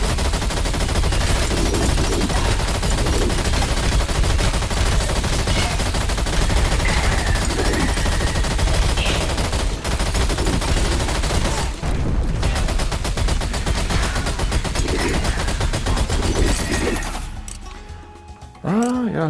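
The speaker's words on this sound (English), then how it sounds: "This is how the laser works." Laser weapon firing in the game Slyders: a relentless, rapid stream of loud, close shots with a rattling, machine-like rhythm that runs almost without pause, then cuts off abruptly near the end, with voices talking over it.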